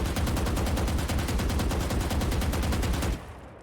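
Continuous spray of automatic gunfire in Valorant, a steady rapid stream of evenly spaced shots for about three seconds, loud and close, ending abruptly with only faint game ambience after.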